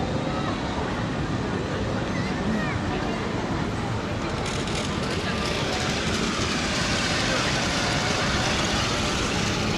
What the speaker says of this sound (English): You got this monorail here, included in the price, I'm guessing.